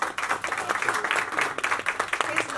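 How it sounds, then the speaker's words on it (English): A crowd at a star-studded awards and magazine cover unveiling event gives a round of applause, the clapping dense and close with uneven bursts and some voices mixed in underneath. "So one round of applause for him."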